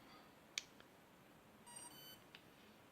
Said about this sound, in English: So we plug this in, it's going to go beep beep.